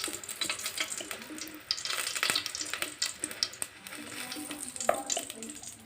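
Cooking oil heating in a pan for sautéing, a steady crackling sizzle with scattered sharp pops and light clatter, close and moderately loud throughout, with no talking.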